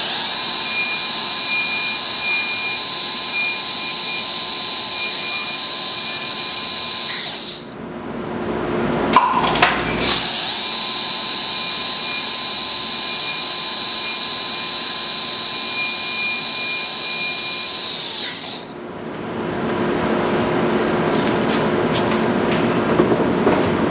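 High-speed dental drill with a round diamond bur cutting decay out of a badly carious permanent molar: a steady, piercing whine runs in three bursts, with brief pauses between them and no talking.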